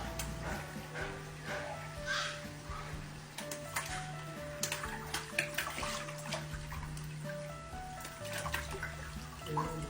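Water balloons burst one after another during a baby's water play, giving soft splashes and pouring water with scattered drips and sharper splats, fairly faint throughout.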